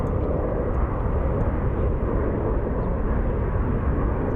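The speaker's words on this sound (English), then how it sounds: "let's catch the Embraer. I believe this is actually operated by Mesa Airlines." An Embraer jet airliner operated by Mesa Airlines roars at Phoenix Sky Harbor Airport, giving a steady broad rumble that stays constant and fairly loud throughout with no voices.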